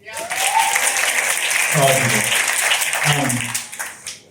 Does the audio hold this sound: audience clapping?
yes